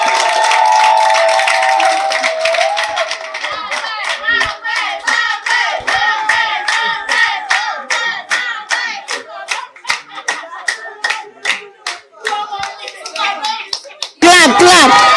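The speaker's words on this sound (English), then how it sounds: "can we clap, clap, clap?" A crowd at an academy's cultural and awards night claps rhythmically in unison, loud and close, with voices calling out at the start and a burst of noise at the end.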